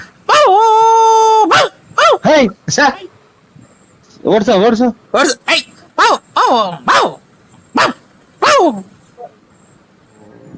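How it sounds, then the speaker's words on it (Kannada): A household dog gives loud, close yelps, a long howl and a rapid series of barks and whines in bursts separated by quiet gaps, with one short spoken word. "ನಮ್ಮನೆ ನಾಯಿ ಬಂದೈತ್ ನೋಡಿ ಸ್ವಾಮಿ. ನಮ್ಮ ಬಡ್ಕೊಂಡಿದೆ."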